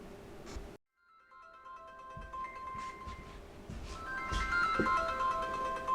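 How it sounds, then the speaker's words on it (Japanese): A mobile phone rings with an incoming call, a steady electronic ringtone melody repeating clearly and fairly loud after a brief silence, with no talking. "今電話が携帯に着信してこれ電磁波が発生しています。"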